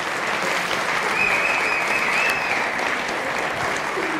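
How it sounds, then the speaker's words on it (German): Audience at a church community event applauding volunteers called to the front, a loud, dense, steady round of clapping from a large crowd, sustained throughout. "Kommt mal nach vorne, Applaus erstmal"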